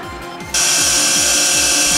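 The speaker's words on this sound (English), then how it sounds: "Use a larger drill to make a countersink, either by hand or carefully with a power drill." Power drill whirring loudly and steadily while cutting a countersink in a metal tripod plate, starting abruptly after a brief quieter moment and then running at constant speed.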